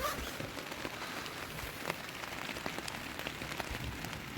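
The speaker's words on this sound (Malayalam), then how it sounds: "മഴ പെയ്യുന്നുണ്ടേ." Rain patters steadily on a closed tent pitched in a forest near Manali, a dense, even drumming of drops with a few louder taps and no speech.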